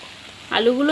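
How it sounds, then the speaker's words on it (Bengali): Fried potatoes tipped into a pan of spiced green peas cooking for ghugni, a quiet simmer suddenly jumping into a sharp, close sizzle as they hit the hot pan. "এবার এর মধ্যে আমি দিয়ে দেব সেই ভেজে রাখা আলুগুলো"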